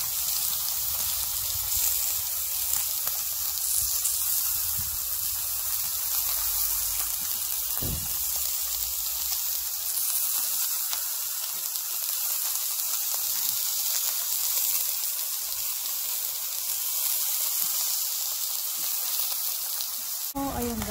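Pork belly and mushrooms sizzle on a grill with a steady, close crackling hiss throughout, and a faint thump partway through.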